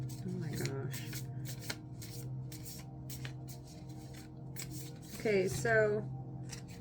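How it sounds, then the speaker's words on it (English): Tarot cards are shuffled by hand in quick, papery bursts that repeat rhythmically up close, under a low steady hum, while someone speaks briefly. "let me shuffle the cards real quick"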